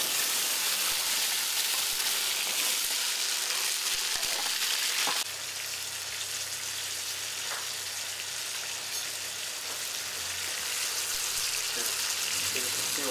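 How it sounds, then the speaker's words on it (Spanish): Tomato, onion and garlic browning in a little oil, a steady crackling sizzle close by that drops suddenly partway through and then continues more softly, with a low hum beneath. "El jitomate, tomate, cebolla y el ajo. Bien doradito, con un poco de aceite."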